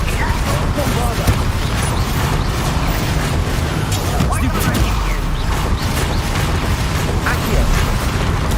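Bombarda spell explosions in Hogwarts Legacy come as a constant barrage of booms and crashing impacts, loud and dense with no pauses, mixed with mechanical clatter and a voice speaking over the fight.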